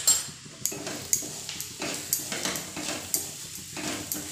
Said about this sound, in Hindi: अब इसको हम अच्छे से मिक्स करेंगे